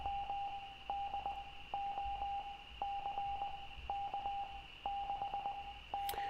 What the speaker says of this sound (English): You'd have to guess it's Morse